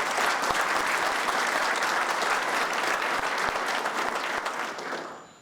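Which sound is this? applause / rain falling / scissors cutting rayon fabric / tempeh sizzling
applause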